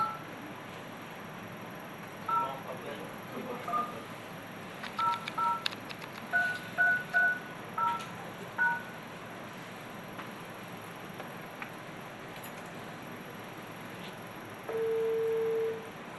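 Touch-tone keypad beeps during a live prize-draw phone call, a string of short DTMF tones in small bursts, followed near the end by a longer steady tone like a ringback or line signal, in a quiet room.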